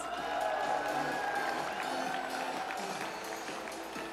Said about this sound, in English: Give your round of applause to Mr.